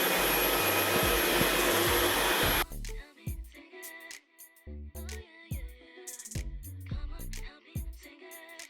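A Dyson V11 Absolute cordless vacuum cleaner runs on carpet, giving a loud steady whirring drone for the first few seconds, then breaking into shorter uneven bursts and pauses as the cleaner is moved around.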